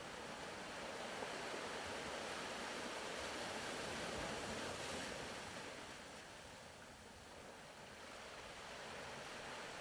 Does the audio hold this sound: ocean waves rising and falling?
yes